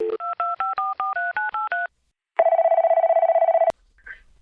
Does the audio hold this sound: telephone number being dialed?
yes